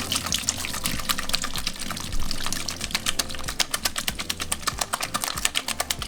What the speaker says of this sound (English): So now we're just going to drain the water.